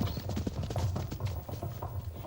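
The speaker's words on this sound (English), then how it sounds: "We can hear a horse behind you, galloping" Horse hooves clip-clopping at a steady galloping rhythm behind a rider on a dark night, continuous and moderately loud with a low rumble throughout.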